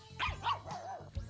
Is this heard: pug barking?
yes